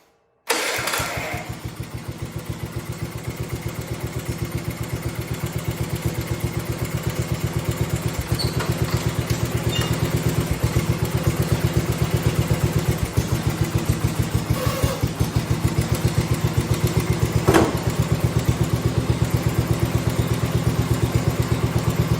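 A 1971 110 motorcycle converted from magneto to battery ignition starts abruptly, then settles into a loud, steady, close-up idle with an even, rapid putter that holds to the end.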